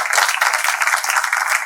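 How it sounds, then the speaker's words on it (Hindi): An audience applauds a stage actor after a theatre production of Swaan Gaan, a dense, steady wash of clapping throughout, loud and close. "इनके लिए जोरदार तालियां होनी चाहिए"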